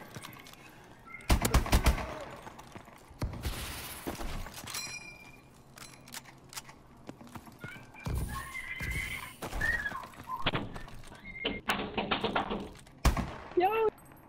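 Gunfire in a free-for-all multiplayer video game: several sharp, loud shots at uneven intervals, mixed with horse whinnies, hoofbeats and birds, while a player talks.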